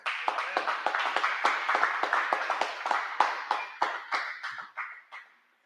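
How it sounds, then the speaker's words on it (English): An audience claps for a speaker at a civic talk in Huntsville, a sparse round of distinct hand claps from a small group, fairly close and steady, tapering off to a few last claps. "give him another round of applause"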